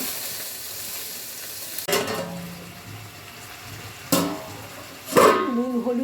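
Vegetables for a Bengali dish with bori, stem, ridge gourd and potato sauté in a pan, a soft steady sizzle broken by three sharp stirring clatters, with a voice speaking quietly.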